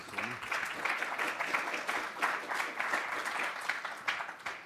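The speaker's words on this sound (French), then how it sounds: "Oui, on peut l'applaudir." Applause fills the hall at the opening of a French solar thermodynamics conference, fairly faint and distant, a steady patter of many hands that slowly thins toward the end.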